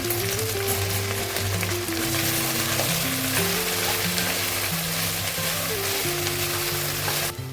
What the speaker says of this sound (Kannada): ಇದಕ್ಕೆ ಕಟ್ ಮಾಡಿ ಇಟ್ಕೊಂಡಿರೋ ಬೆಂಡೆಕಾಯಿ ಎಲ್ಲ ಹಾಕ್ತಾ ಇದ್ದೀನಿ. ಅಂಟು ಹೋಗೋ ತನಕ ಚೆನ್ನಾಗಿ ಫ್ರೈ ಮಾಡ್ಕೊಳ್ಳೋಣ